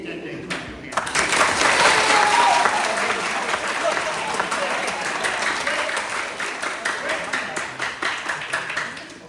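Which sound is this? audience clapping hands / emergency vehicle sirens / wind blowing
audience clapping hands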